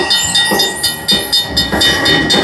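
A slot machine's mini train bonus plays a loud, steady rail sound effect with rhythmic clickety-clack beats and a hissing, steam-like wash, running continuously with no voices.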